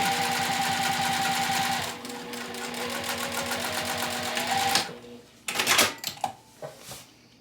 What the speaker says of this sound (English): All I'm doing is just top stitching across that folded edge at 1/8 of an inch away.